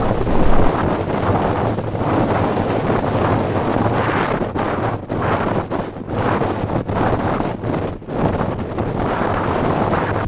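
Big storm waves at sea off Liepāja, heard as a constant roar of surf churned together with heavy wind buffeting the microphone, loud and unbroken with gusty dips.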